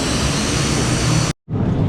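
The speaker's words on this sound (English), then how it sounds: "It's a prop engine," A Yeti Airlines small propeller plane drones loudly and steadily in flight between Kathmandu and Pokhara, a dense, continuous engine roar that cuts out abruptly for a split second before resuming.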